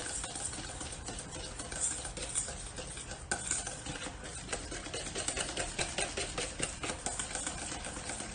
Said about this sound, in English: I'm just giving it a few extra spins here to make sure that I don't have any chunks